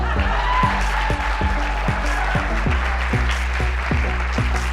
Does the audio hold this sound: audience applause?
yes